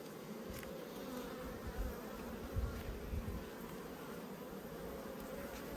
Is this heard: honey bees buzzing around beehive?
yes